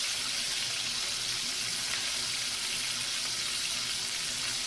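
Fresh ginger and garlic powder frying in a stir fry pan for Thai cashew chicken, a steady, even hiss and sizzle with no pauses, fairly close.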